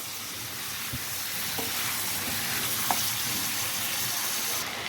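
Chicken frying in a pan over a low-to-medium flame for a chicken bhindi masala: a steady, soft sizzle with a few faint clinks and scrapes, no voices.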